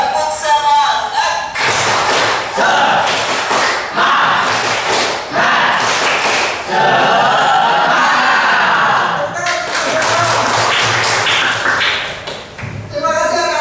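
A class of children beats out a rhythmic spirit clap in loud, patterned bursts of hand claps with short pauses, and young voices chant along with the beat.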